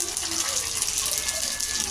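Pani puri frying in hot oil in a home kitchen, a dense continuous hiss and sizzle that stays loud and steady throughout.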